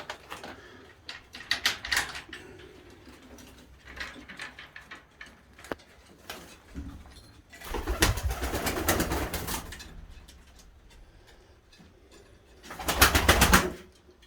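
Pigeons coo softly nearby, with fluttering wings and scattered taps, and two louder bursts of rustling flapping.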